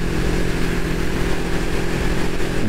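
A Kawasaki ER5 motorcycle engine drones steadily while riding at cruising speed, a loud, constant mid-pitched hum mixed with wind rush and no pauses.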